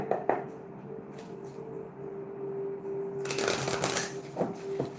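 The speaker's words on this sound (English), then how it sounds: "I'm just going to pull a card from this deck for you." A deck of tarot cards being shuffled up close, soft riffling flutters that swell into a dense, rapid burst of card slaps near the end.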